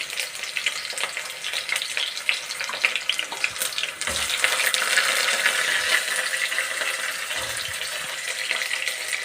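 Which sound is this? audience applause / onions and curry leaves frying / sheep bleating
onions and curry leaves frying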